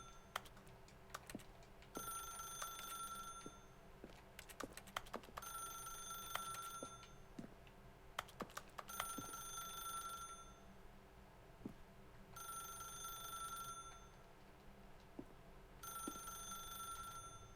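An old-fashioned telephone rings in The Stanley Parable, five or six bright trilling bursts at regular intervals over a quiet room, with scattered soft clicks and taps between rings and no talk.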